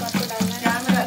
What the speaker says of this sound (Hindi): तो प्याज को आपको अच्छे से गोल्डन ब्राउन होने तक फ्राई करना है